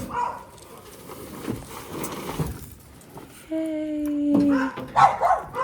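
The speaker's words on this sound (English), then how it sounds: "Oh, those dogs are so annoying." Dogs bark in the distance, the calls thin and intermittent under nearby talk and bustle, followed by a louder sustained whine-like tone later on.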